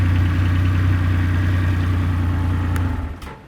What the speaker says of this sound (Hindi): यहाँ पे आप इसको प्रेस करके रखेंगे तो ये बाइक स्टार्ट हो जाती है